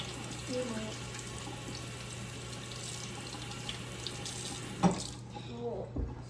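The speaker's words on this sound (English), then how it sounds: "Let me rinse off my hands so I don't want flour in the cornmeal." A kitchen sink tap runs steadily while hands are rinsed under it, with splashes and a clunk near the end as the flow stops, up close and without talk.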